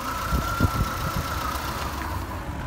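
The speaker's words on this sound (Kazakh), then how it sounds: "Моторын дауысын қарайды." A 2008 car's engine idles steadily at a car market in Atyrau, a close, continuous low rumble with a few soft thumps early on.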